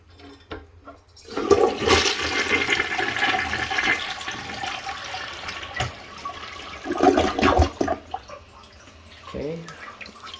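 A toilet flushes up close to rinse a neglected bowl being cleaned, a loud rushing gush of water that swells, tails off into trickling and dripping, then surges briefly again.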